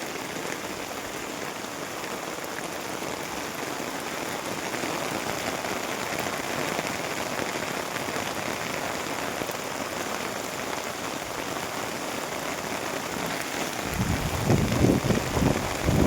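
Heavy rain falls in a continuous dense hiss with no pauses, growing slightly louder and rougher near the end.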